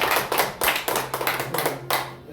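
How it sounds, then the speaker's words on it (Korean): A church congregation claps together at a Wednesday prayer service, a steady burst of overlapping handclaps close by, with no talking over it. "우리 박수 한번 하겠습니다"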